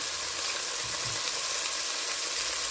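Garlic frying in a pot for beef stew gives off a steady, close sizzle of bright, dense hiss that holds evenly throughout.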